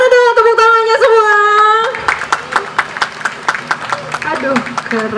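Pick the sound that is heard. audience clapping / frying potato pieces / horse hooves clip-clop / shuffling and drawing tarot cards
audience clapping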